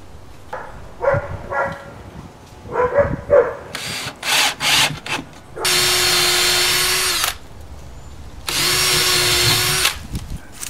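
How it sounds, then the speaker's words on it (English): A drill backs out screws on a cabinet: short whirring bursts and knocks, then two longer, louder spinning runs close by, no talk. "let's just undo these two screws, move it up where it's supposed to be"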